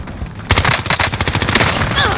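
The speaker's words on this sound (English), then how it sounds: "We got shot in the back." Rapid automatic gunfire rattles loudly and continuously in a Call of Duty Warzone match, a dense burst of shots with a rising game effect at the end.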